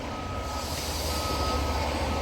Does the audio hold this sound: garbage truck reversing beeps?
yes